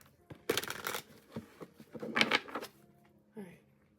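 Tarot cards are shuffled close up in two quick riffling bursts, then a short pause and a softer flick, in a quiet room.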